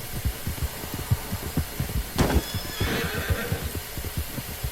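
A horse in Red Dead Redemption 2 gives a loud, close neigh midway, set against a steady clip-clop of hooves throughout.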